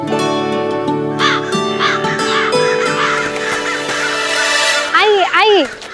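Crows cawing at a feeding spot near a city gate, harsh calls rising near the end over music and other sounds, with someone speaking.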